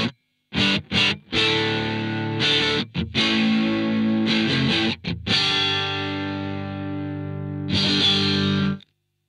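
Distorted electric guitar played dry through a Two Notes Torpedo Captor X with no reverb: sustained chords and ringing notes with brief cut-offs between phrases, loud and close, alone.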